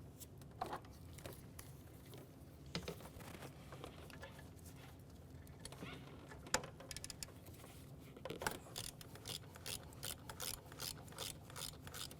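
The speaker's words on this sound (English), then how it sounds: "let's continue on with our 13mm, and we'll remove the next bolt underneath it" A ratchet with a 13mm socket backs out an exhaust heat shield bolt on a 2005-2010 Chevrolet Cobalt, giving repeated bursts of quick, close mechanical clicks over a steady low background hum.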